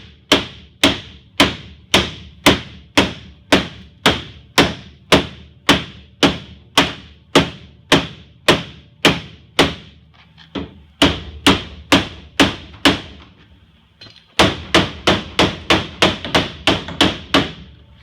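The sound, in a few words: hammer bending thick steel on a Crown Vic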